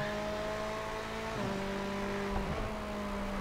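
Valenzuela's Ferrari race car at Imola in iRacing roars on board with a steady engine drone. The pitch shifts partway through as the revs change, and a hiss of road and wind noise runs underneath.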